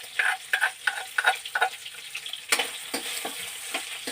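Chili stir-fried in a pan for a northern Thai gourd and pork curry: quiet sizzling with a quick run of rhythmic spatula scrapes and taps, then a brighter, denser sizzle as more goes in.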